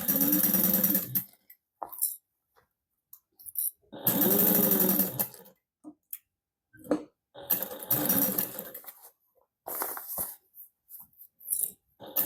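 A sewing machine stitches soft Minky fabric for a holiday stocking, running in several loud, close bursts of whirring motor separated by quiet pauses and small handling clicks.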